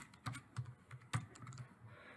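Typing on a computer keyboard while entering text into a spreadsheet cell, a short run of separate, fairly soft key taps at an uneven pace.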